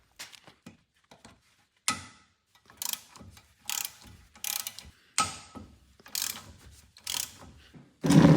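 A ratchet and short extension work the 17 mm rear caliper bolts on a first-generation Honda Fit: quick bursts of sharp metallic clicking, repeated many times with short pauses between strokes.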